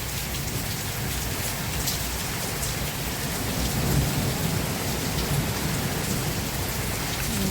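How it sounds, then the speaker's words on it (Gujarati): Heavy rain pours steadily with gusting wind during an unseasonal storm in a farm setting in Gujarat, a dense continuous roar with a low rumble swelling near the middle. "પવન વધતો જાય છે, વાવાઝોડું અને વરસાદે વધી ગયો છે."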